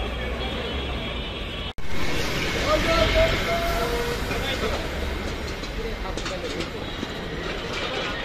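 A metro train rumbles and roars steadily at Bangladesh Secretariat metro station in Dhaka, loud and close after an abrupt cut, with a voice talking over the rail noise.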